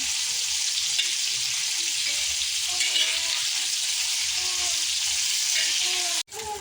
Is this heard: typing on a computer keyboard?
no